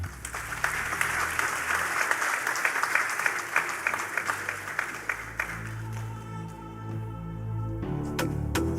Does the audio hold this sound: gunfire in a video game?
no